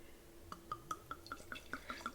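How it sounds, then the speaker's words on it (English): Stella Rosa Stella Berry wine poured into a glass, heard as a quiet run of regular splashy drips and trickles about every fifth of a second, soft and close with no talking over it. "Let's put the glass and do the pour."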